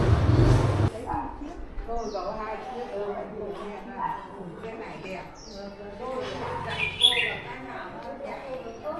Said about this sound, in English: Birds singing, and that's the other thing